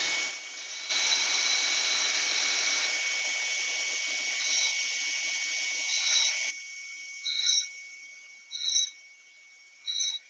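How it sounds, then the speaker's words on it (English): A sander buzzes steadily against the end of a small wooden tree bauble on a lathe for several seconds, then stops, followed by a few short, sharp bursts of sanding contact. "I'll just sand that end"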